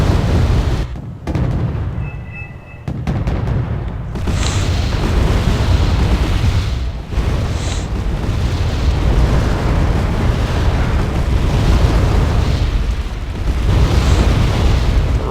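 Heavy weapons fire and explosions rage almost nonstop in a video game battle, with deep booming blasts and rumbling bursts layered densely throughout, loud and close.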